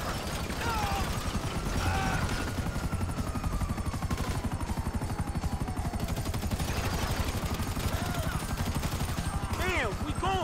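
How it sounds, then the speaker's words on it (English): A police helicopter's rotor chops rapidly and continuously in Grand Theft Auto 5, loud and close, mixed with bursts of gunfire, whooshing effects and occasional distant sirens. "Take out that chopper!"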